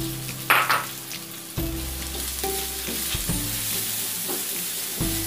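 Onions just added to browned garlic fry in a pan with a steady, close sizzle, punctuated by a few knocks and scrapes from stirring.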